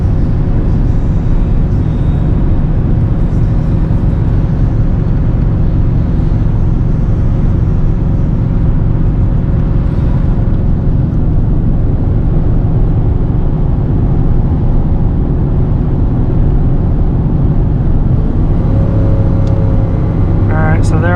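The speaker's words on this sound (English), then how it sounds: "there I went to accelerate some more and it just dropped down to third gear" A 24-year-old truck with an 8.1-litre gas V8, towing 18,000 pounds uphill, accelerates in a loud, steady, low engine drone that holds for the whole stretch, with a slight change in tone near the end.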